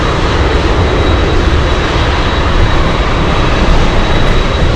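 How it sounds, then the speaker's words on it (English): An Alaska Airlines jet arriving from Seattle into Anchorage makes a loud, close, steady engine roar, a dense unbroken rumble with a thin high whine running through it, alone with no voices. "And we have ALAKSA Airlines flying in from Seattle,"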